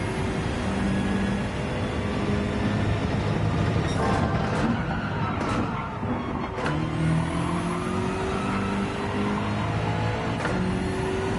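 A BMW M6 race car in Gran Turismo 7 drives with a steady engine drone, its pitch rising and falling through gear changes, loud and continuous with no talk.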